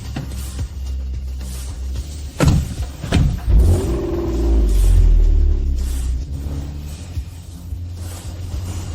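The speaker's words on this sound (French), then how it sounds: "Démarrez le cortège" Several cars of a wedding motorcade start up and pull away, engines rumbling low and swelling as they accelerate, with a couple of sharp transient knocks early on.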